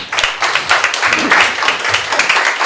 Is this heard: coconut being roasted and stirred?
no